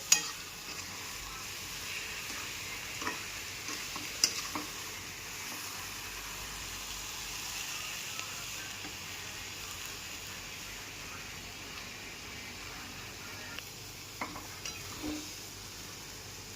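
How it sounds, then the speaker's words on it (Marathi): Soybean chunks with salt sautéed in a pan for soya momos, a faint, steady sizzle with a few light scrapes of a spoon against the pan. "सोयाबीन छान परतलेला आहे."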